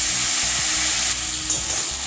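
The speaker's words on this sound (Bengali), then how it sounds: "জিরেটা যখন ফুটে উঠেছে, ফাটছে, তখন আমি আলুগুলো ছেড়ে দিলাম" Potatoes fry in hot oil with crackling cumin and dried red chillies, making a dense, continuous, close sizzle with a low steady hum underneath.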